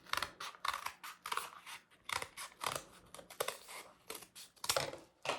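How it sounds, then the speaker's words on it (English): Scissors snipping through paper to cut out the inside of a drawn circle for a kids' craft, a steady run of close, crisp cuts with no voices. "you take those lines that you drew and you cut the inside of the circle,"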